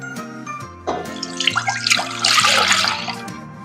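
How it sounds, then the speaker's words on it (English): Milk pours into a saucepan for Genovese Italian Christmas cookies, a close, splashy liquid gurgle that builds over a few seconds above a faint steady hum. "In the saucepan, I'm going to add 2 cups of homogenized milk."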